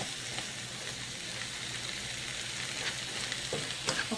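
Onions and peppers sweat in a hot pan for 4-bean turkey chili, giving a steady, close sizzle and crackle throughout with occasional brief pops and no talking.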